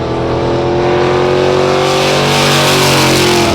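Drag racing cars roar down the strip at full throttle in a round of drag racing, a loud, sustained engine howl with rising pitch throughout, close and uninterrupted.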